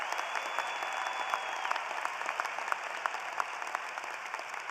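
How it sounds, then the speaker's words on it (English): An audience at a spring 2022 College of Education, Health and Human Sciences commencement ceremony claps in a dense, even stream of applause that holds at a steady level throughout. "give her a round of applause"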